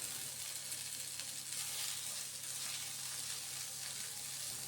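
Boiled potatoes go into a pan of hot oil for a potato masala filling, giving a soft, continuous sizzle and crackle at an even, fairly quiet level throughout, with no voices.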